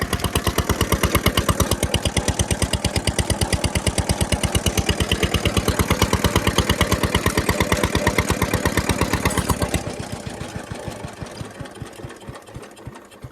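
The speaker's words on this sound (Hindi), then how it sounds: "अभी मैं बंद करने लगा हूँ अपना ट्यूबवेल" A tubewell pump engine on a cattle farm chugs loudly and steadily with a fast, even thump, then slows and loosens near the end as it is shut down.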